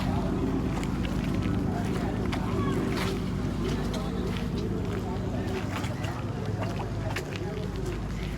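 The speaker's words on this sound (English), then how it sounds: "This is another really big boat." A large boat's engine drones low and steady throughout in a harbor at Himandhoo, Maldives, with water and wind noise and scattered activity over it.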